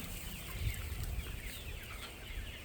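Seventy-day-old layer chickens cluck and murmur steadily over a low, rumbling background, with no talking.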